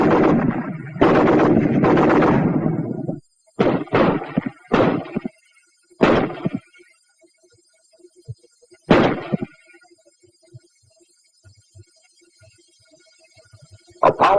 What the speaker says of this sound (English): The BAR, 80 shots a minute.